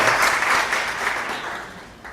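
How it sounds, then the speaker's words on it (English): An audience claps together at a public address on governance, a dense wash of applause that holds steady and then slowly thins out. "We must be happy and clap for ourselves for the patience we have"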